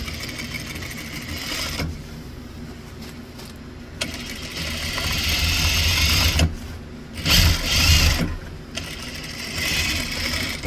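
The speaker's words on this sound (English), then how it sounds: "See, I'm sewing on the edge down there." Sewing machine stitching along the edge of a denim piece while attaching a zipper for a bag, a steady mechanical whir running in bursts with brief pauses, close and fairly loud.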